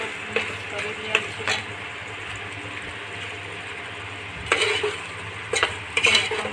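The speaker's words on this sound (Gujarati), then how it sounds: "જોઈ શકો છો મિત્રો ચણાનો લોટ મિક્સ કરી રહ્યા" Gram flour being mixed into okra curry in a pan, soft scraping and stirring strokes over a low sizzle, with a few louder scrapes toward the end.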